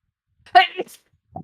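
A single short sneeze up close, followed by a brief faint sound afterward.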